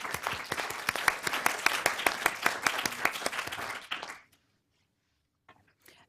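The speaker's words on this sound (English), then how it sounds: "I would like all of us to give a round of applause and thank our panelists." An audience at a panel discussion applauds the panelists with clear, closely spaced claps for about four seconds before the clapping stops abruptly. Near-silence follows, broken by a few faint sounds.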